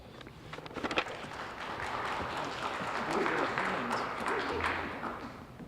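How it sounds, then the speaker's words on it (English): An audience at a public safety forum claps together, a moderate, steady wash of applause that swells gently midway and carries on for several seconds after a few early louder claps. "This is the first forum that we've held that we've gotten applause."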